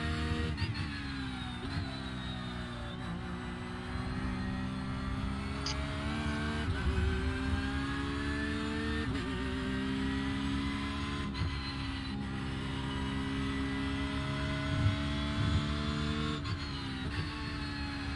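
A Porsche 911 race car engine in the iRacing sim drones and revs continuously, pitch rising and dropping with gear shifts, fairly loud throughout with no talking.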